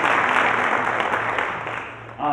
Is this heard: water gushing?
no